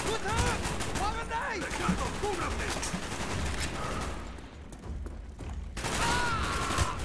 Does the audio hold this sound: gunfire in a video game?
yes